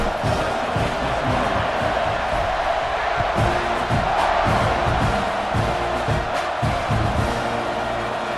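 A football stadium crowd roars in a continuous, dense wall of cheering and shouting, with scattered whoops and rhythmic surges, loud and enveloping from start to finish.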